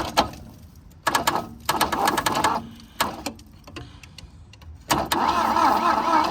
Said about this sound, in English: Oh, she cranks.